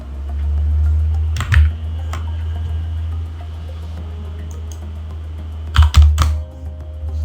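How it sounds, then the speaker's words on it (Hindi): Computer keyboard keys pressed during logo design work in Adobe Illustrator: two short bursts of sharp clicks, near and clear, over a steady low electrical hum with no talking. "अब हम कीबोर्ड से V प्रेस कर रहे हैं"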